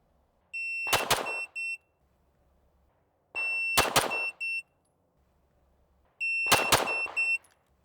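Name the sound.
two fast handgun shots fired with a shot timer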